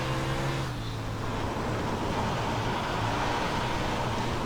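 Wingless 360 and 410 sprint car engines in iRacing drone continuously at speed, a steady buzzing motor tone with shifting pitch under a broad noisy roar.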